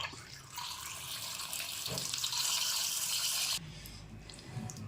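Water runs steadily from a tap into a vessel, a continuous rushing splash that cuts off sharply near the end, leaving a quieter room.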